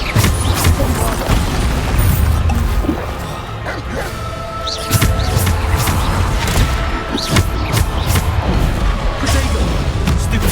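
Bombarda explosion spells in Hogwarts Legacy, repeated loud booms and crashing blasts throughout a chaotic spell-casting combat sequence, with dense effects layered between impacts.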